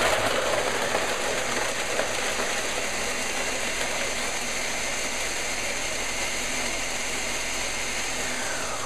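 A blender mixing a Shakeology shake runs continuously at high power, a loud, steady motor whir with a high whine, unchanging throughout with no talking.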